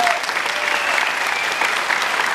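Audience applause after a song at Kona Nui Nights, a Hawaiian music performance: dense, steady clapping from a crowd filling the whole moment, fairly close and loud.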